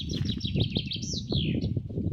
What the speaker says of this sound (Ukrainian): Чуєте, пташка співає.